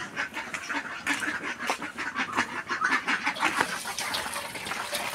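A flock of ducks quacks continuously at close range, dense overlapping calls forming a steady, busy chorus for several seconds without any speech.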